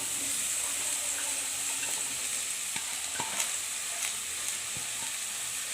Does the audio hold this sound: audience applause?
no